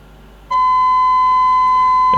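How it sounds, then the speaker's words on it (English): Steady electronic alarm tone from a Kenwood TS950S transceiver with a signal-meter fault, starting abruptly after a quiet moment and holding loud and unbroken to the end. "And the alarm appears."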